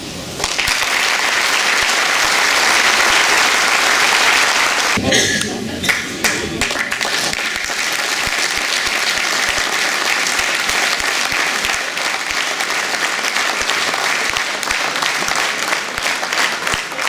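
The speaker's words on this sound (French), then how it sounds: "nous allons faire 1 minute d'applaudissements" Sustained applause from a crowd at a centenary commemoration, held as a tribute in memory of people who have died; dense, steady clapping continues throughout, with a brief shift in texture partway through.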